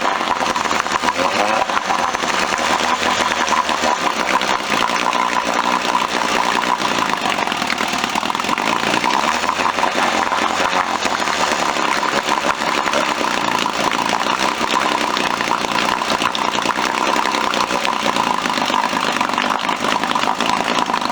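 A vintage Evinrude 4hp outboard motor runs steadily throughout, a loud, buzzy, continuous drone with a rough carburetor, close and unbroken, with no talking.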